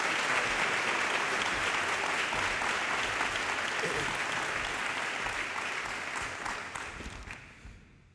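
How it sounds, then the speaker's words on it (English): A crowd at a Sacramento event greets Mayor Kevin Johnson with a warm, full round of applause that holds steady and then tapers off toward the end. "We gave Darryl a round of applause because of his remarks"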